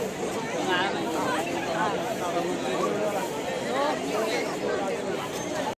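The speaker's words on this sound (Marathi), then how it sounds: "तुम्हाला काय लय गर्दी आहे काय जाम गर्दी आहे" Dense crowd chatter fills a busy Mumbai street near Kala Ghoda, Churchgate, a steady close babble of many overlapping voices with no pauses.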